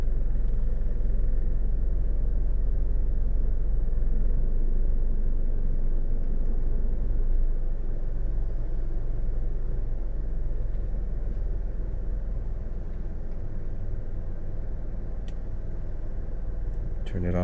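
A Nissan engine idles in gear with the air conditioning on, a steady low rumble close by that holds level throughout, with a voice briefly heard under it.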